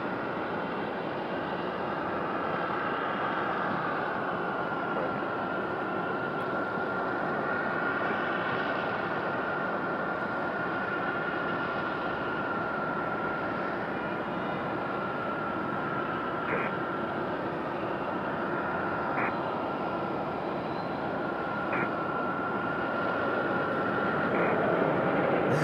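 An airliner arriving from Orlando at Raleigh-Durham airport makes a long, steady rumbling roar that holds at moderate loudness from start to finish, with a faint whine running through it and no talking.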